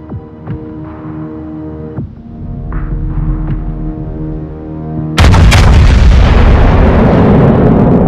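Naval gunfire from the Vermont's 457mm guns in World of Warships Legends, a game sound. A low throbbing hum with a few soft thumps gives way to a sudden, loud, sustained roaring blast that lasts until the end.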